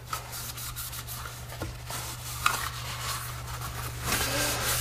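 Soft, close rubbing and scrubbing of cloth wiping down Stoeger P350 shotgun parts, continuing in quiet uneven strokes.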